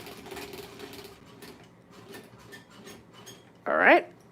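A sewing machine stitches forward on a hedgehog craft piece with a faint, rhythmic mechanical whir, and a short loud rustling burst comes near the end. A voice is faintly present.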